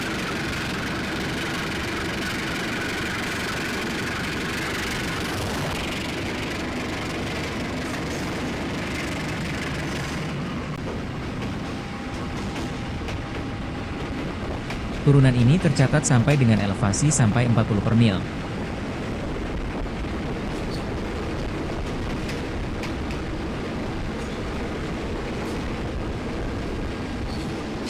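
Train rumbling along the steep, winding Padalarang-Cianjur line during a 2013 trial run, a steady low engine drone heard under Indonesian narration, with a louder burst of clattering noise midway through.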